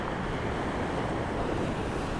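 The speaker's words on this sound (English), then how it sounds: "So nice big crashing waves coming in." Big waves roll in and crash on a rocky shore along a windy coastline, a steady, loud surf roar that fills the whole stretch without breaks, with wind noise on the microphone.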